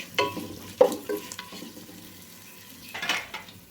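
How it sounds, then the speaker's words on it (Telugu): Coriander and mint leaves fry in oil for a restaurant-style basmati biryani, with a soft crackling sizzle and a few clinking stirs of a ladle against the pan, close and moderately loud. "కొత్తిమీర పుదీనా కూడా ఆయిల్లో బాగా వేగాలి"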